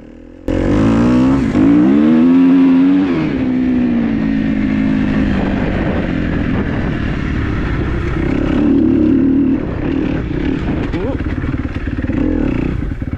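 A dirt bike engine idling and revving on a trail being cleared in the woods, loud and close for the whole stretch, with a voice talking over it.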